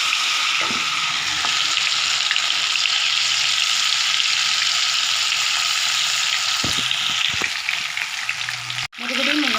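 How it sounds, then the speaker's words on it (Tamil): Marinated mushroom pieces deep frying in hot oil for a mushroom 65, a dense, steady bubbling sizzle close by with a few light knocks, ending in a brief clatter and a sharp drop. "இப்போ நம்ம பொரிச்சு எடுக்கலாம்"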